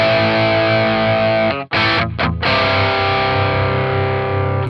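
Guitar through a NUX amp modelling a dual rectifier, heavily distorted and loud: a sustained chord rings, breaks off briefly with a couple of quick chopped hits, then a thick chord sustains again.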